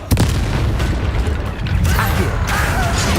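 Confringo blasting spell explosion in Hogwarts Legacy, a loud sharp boom at the start followed by crackling debris and mechanical clatter, with another burst toward the end.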